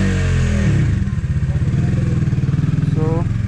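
A motorcycle engine idles and throbs up close in a steady pulsing rhythm outside a hotel, loud and continuous, with a voice speaking briefly over it near the end.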